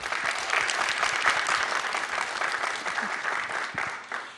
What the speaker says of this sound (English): give another round of applause to Mr.